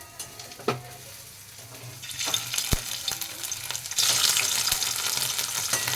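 Pieces of soybean chaap drop into hot white oil in a wok and sizzle steadily, with a few sharp clinks and stirring knocks before the frying swells louder and denser toward the end.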